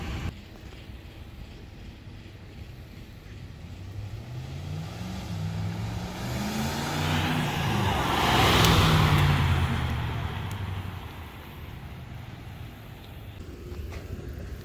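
A car approaches, grows loud as it passes close by, then fades, with wind buffeting the microphone during a crash test of an Olight flashlight thrown from the car.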